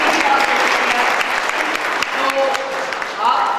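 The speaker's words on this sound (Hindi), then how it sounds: "तो आप सबकी अगेन जोरदार ताली के लिए पुष्पेंद्र जी को बुलाना चाहेंगे।" Seminar audience applauds loudly with dense, sustained clapping from a crowd, while a voice speaks over the ovation at times.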